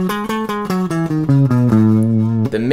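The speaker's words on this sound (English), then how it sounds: "The Lydian mode, which sounds like this." Quick notes of a Lydian mode scale run through two octaves, bright sustained tones in an even stepwise sequence with the final note ringing out longer, close and alone.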